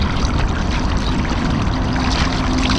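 Water drains from a punctured, heavily filled trash bag washed up by the high tide, a loud, continuous gushing and splashing pour that stays close and unbroken from start to finish.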